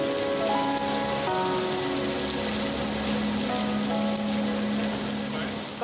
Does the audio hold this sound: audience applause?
no